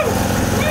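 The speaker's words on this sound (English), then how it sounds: "it's a beautiful, beautiful lawnmower. A very, very expensive lawnmower." An expensive lawnmower being driven up close, a loud, throaty, rapidly pulsing engine chug across a very brief moment.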